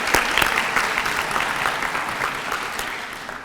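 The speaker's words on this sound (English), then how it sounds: "I really think you all deserve a round of applause" Audience applause for students at a martial arts belt awards event, a steady burst of many hands clapping that holds evenly from start to finish.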